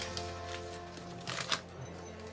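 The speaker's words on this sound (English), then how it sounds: "Do I shuffle my rewards decks after I put these in" Board game cards for Slay the Spire being shuffled, soft quiet riffling and papery flicks with a couple of sharper snaps, close and low in level.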